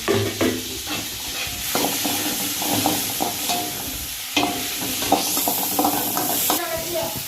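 Tomatoes and chillies sizzle loudly in a pan as a spoon stirs them repeatedly, with scrapes and clatters against the pan over steady frying hiss, close and without speech.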